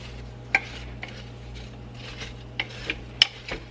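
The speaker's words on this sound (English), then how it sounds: "Just give this a little gentle stir." Apple butter with cinnamon in a crockpot, gently stirred, giving a few soft scrapes and light clinks of a spoon against the pot over a low steady hum, close and quiet.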